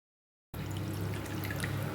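Water streams steadily into a pot of lady fish curry after a moment of silence, a continuous pouring and gurgling that stays fairly close and even throughout.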